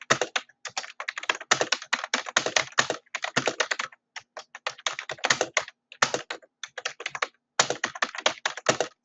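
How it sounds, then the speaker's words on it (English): Rapid typing on a computer keyboard, close and crisp, comes in bursts of quick clicking keystrokes separated by brief pauses, with no talking. "I know I'm typing this for you."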